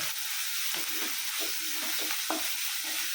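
Ginger, green chili and shallots frying in a hot clay pot, a continuous bright sizzle with light stirring scrapes and taps recurring throughout.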